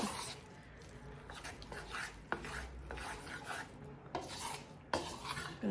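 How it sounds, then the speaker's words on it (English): Sticky gluten-free sourdough dough made with brown rice flour being stirred in a bowl, giving soft repeated rasping, scraping strokes with occasional sharper knocks of the utensil against the bowl, close by. "I'm gonna mix it till it's cohesive and smooth."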